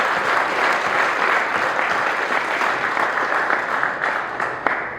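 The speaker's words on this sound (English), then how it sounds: "Let's give him a round of applause." A large audience at a golf coaching and teaching summit gives sustained, dense applause, a loud continuous wash of clapping that holds steady for the whole stretch without talk.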